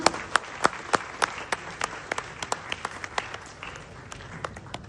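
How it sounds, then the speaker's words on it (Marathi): An audience at a felicitation ceremony applauds with sustained clapping and sharp individual claps popping out in an uneven rhythm, fairly loud and continuous throughout. "जोरदार टाळ्यांनी आपण"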